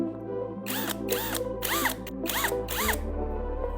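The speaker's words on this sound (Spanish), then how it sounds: "Hacemos estos 3 agujeros con una broca de 5 milímetros de diámetro." A power drill fitted with a 5 mm bit bores holes, heard as several short whining bursts with rising pitch, separated by brief pauses over a constant low motor hum.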